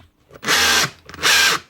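Makita DHR242 SDS drill in hammer drill mode, running in two close loud bursts of about half a second each with a brief pause between, with no talk over it.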